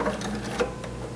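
A sewing machine stitches a few short runs of towel fabric forward and back, giving a close mechanical whirring with small ticks and clatter that is steady and brief, with no talk over it.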